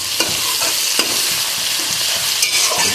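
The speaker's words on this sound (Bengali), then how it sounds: "এটাকে পেঁয়াজ আর ক্যাপসিকাম ভালো করে ভেজে নেব" Onions and capsicum fry in a pan, a steady broadband sizzle with a few sharp spatula scrapes and stirring knocks spaced through the stretch, loud and close with no voices.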